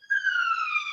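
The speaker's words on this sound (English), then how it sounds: "you probably hear a siren still in the background" An emergency siren wails in the distance, a single steady tone gliding slowly downward, clear and alone with no voices.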